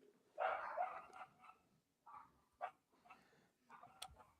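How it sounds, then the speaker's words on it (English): Dogs bark in the distance: several faint, scattered barks and yips at uneven intervals, heard softly in the background. "let's move on over to the barking dogs in the background"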